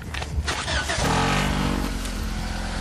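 A car engine cranks briefly and catches, then settles into a loud, close idle rumble with some revving, with no talking over it.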